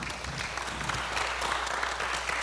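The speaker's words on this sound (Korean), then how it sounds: "큰 박수로 부탁드리겠습니다." Steady, moderately quiet applause from an audience at a public forum on local decentralization, welcoming a university professor moderating a citizen talk session, continuous throughout with no voices over it.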